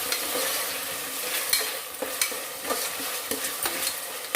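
Chopped medium tomatoes frying in a little oil for peas pulao, with a bright steady sizzle and several scraping stirs of a spoon through the pan, close and fairly loud.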